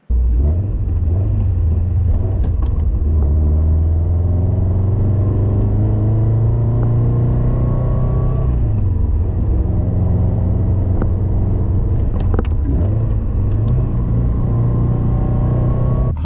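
A car on a short test drive runs with steady, loud engine and road rumble throughout, its pitch rising and falling as it accelerates and eases off, with no talk over it.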